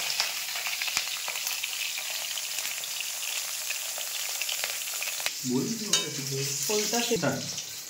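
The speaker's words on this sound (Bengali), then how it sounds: "তেলটা গরম হয়ে গেল। ইলিশ মাছের মাথাটা ভেজে নিতে হবে।" A hilsa fish head frying in hot oil makes a continuous close, crackling sizzle with small pops, and a brief low tonal sound rises near the end.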